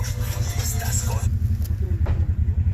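Inside a moving UAZ Bukhanka van, a deep low engine rumble pulses steadily and fills the cabin, with faint voices in the background.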